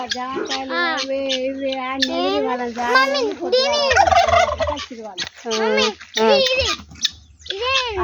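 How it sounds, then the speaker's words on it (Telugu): A chicken gives a run of rising and falling clucking calls, close and fairly loud, with brief pauses between bursts and children's voices faintly in the background. "అది కూడా కోడి, కోడినే అది కూడా"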